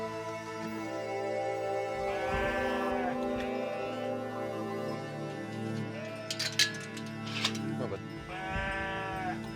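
Sheep bleat in the morning as they are let out onto a golf course at Whistling Straits, several calls rising over steady background noise while people talk nearby.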